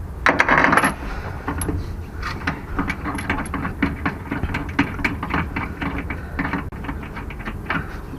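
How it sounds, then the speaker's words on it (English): Bolts being lightly tightened during a steering system install on a Lexus IS, with repeated metallic clicks and ratcheting taps close by, an early clatter followed by irregular bursts of small mechanical sounds. "Now that everything is in place, I'm going to lightly tighten all the bolts back."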